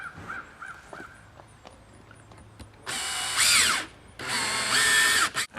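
A power drill drives exterior screws to fix a replacement outdoor spigot (hose bibb) in place. It comes in two loud, sustained whirring bursts of about a second each, after a quieter stretch with faint bird caws.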